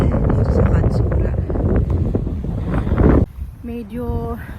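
Strong gusts at Obara Beach in Katsuura, Chiba, Japan, buffet the microphone with loud rumbling, then cut out abruptly, followed by a brief voice.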